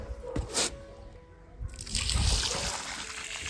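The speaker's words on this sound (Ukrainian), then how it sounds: "тепер трошки налью води" Water trickles and splashes after a couple of brief knocks, a short steady pour into a soil planting hole for a rhododendron, close by.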